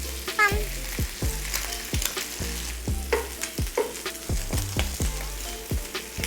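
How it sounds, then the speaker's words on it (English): Eggs fry in a pan of leftover fat, a continuous close sizzle with regular stirring scrapes and light taps throughout, no talking. "we're gonna cook our eggotry in the exact same fat"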